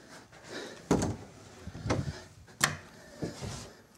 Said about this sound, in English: Closing this door.